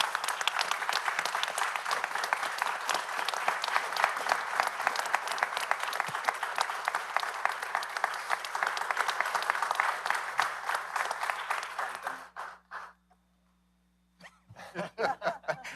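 Warm applause rises in a city council meeting for a police officer honored as Officer of the Month, steady clapping for about twelve seconds before fading into near silence, then a few sounds and voices return.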